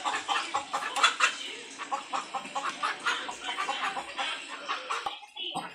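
A flock of chickens clucks and squawks continuously and fairly loudly, a dense run of overlapping calls with no talking, trailing off near the end.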